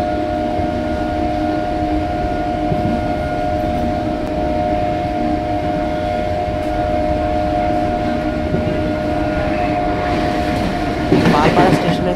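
A galloping local train on the Sealdah–Krishnanagar line rumbles along at speed with a steady, loud roar and a sustained horn tone, the noise swelling near the end.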